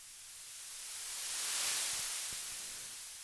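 White noise sweep synthesized in Phase Plant, a broad hiss that swells toward the middle and then eases back down, with a few faint low thumps near the end and no voices.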